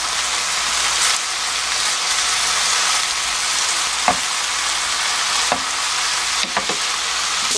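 Thinly sliced imported beef for crispy bulgogi sizzles steadily in a hot pan as it is stir-fried until the moisture cooks off, with a few sharp scrapes and clacks of the utensil against the pan.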